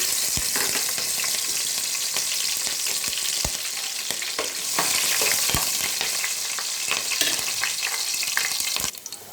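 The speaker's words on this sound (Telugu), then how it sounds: "ఇవన్నీ చక్కగా ఒకసారి ఫ్రై చేసుకుందాం. ఆయిల్లో ఫ్రై అవనిద్దాం." Green chillies and spices fry in oil for a mutton curry, a steady, loud sizzle broken by clattering stirring strokes, with no voices.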